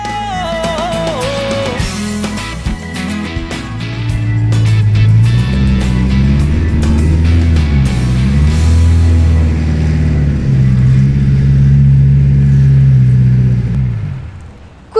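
A fully restored and modified classic Porsche 912 engine runs loud and close, its low throbbing drone rising as it revs, then holding steady before cutting off, with music-like tones sounding faintly at the start.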